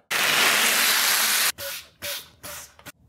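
A spray bottle mists a liquid mixture onto sun-protection window film: one long, steady hissing spray, then three short, sharp bursts, close and fairly loud, with no talking.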